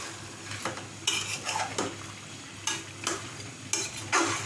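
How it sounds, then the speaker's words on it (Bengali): A spoon stirs mutton and potatoes in a pot for biryani, producing separate scraping, clattering strokes against the metal at an uneven rhythm over a faint background sizzle, with no talking. "মাটনে আমি আলু দিয়ে দিয়েছি আমি একটু নেড়েও দিলাম"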